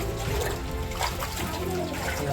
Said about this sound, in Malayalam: വെള്ളം വെള്ളമാണല്ലോ വരുന്നത്.